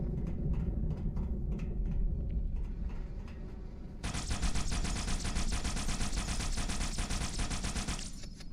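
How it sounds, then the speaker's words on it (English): Rapid, continuous Needler fire in Halo 2, a dense rattling stream of shots that thickens partway through into a loud, bright, sustained barrage with no speech over it. "It'll be so full of needles that you will no longer see projectiles coming out of the gun"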